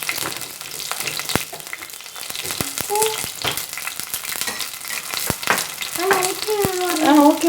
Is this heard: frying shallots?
yes